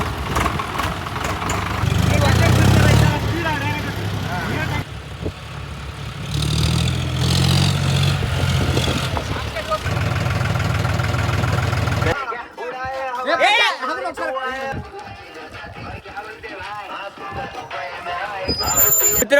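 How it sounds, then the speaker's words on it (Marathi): Two tractors idling outdoors in rain and wind, a low steady engine rumble running under almost continuous talking, with a brief quieter stretch where the engine thins out. "हे पाहू शकता 2 ट्रॅक्टर एक ऑटो पण आहे."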